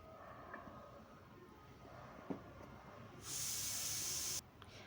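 Mustard seed and curry leaf tempering is added to radish sambar and gives a sudden hissing sizzle that lasts about a second after quiet kitchen background.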